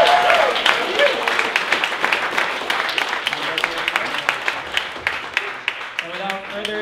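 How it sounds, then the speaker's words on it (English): A crowd at a hackathon awards event claps and applauds steadily for several seconds, a dense patter of hands filling the room. "everybody give your round of applause for all of the honorable mentions"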